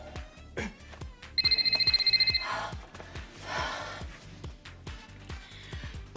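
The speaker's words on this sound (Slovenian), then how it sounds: "Pazi že ta telefon." A telephone bell rings in a short, rapid trill, loud and close, against a background of repeated low thumps and some breathing or shuffling in a room.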